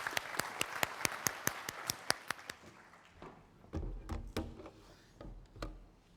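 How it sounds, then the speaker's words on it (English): A sparse round of audience applause at a conference opening session: a few loud, evenly spaced claps up close, then a softer, looser scatter of clapping from the room. "Big warm applause to him,"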